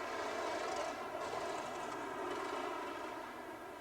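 An aircraft engine runs at an air show in South Carolina, a distant, steady droning roar with little change, fairly faint and without speech.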